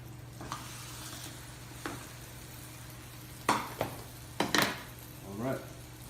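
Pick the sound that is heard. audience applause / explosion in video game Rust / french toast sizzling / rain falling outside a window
french toast sizzling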